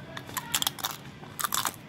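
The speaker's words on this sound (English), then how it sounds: "The yucca is delicious. Extra crunchy." Loud, close crunching of fried yucca chips being bitten and chewed, several crisp bursts in quick succession with short pauses between.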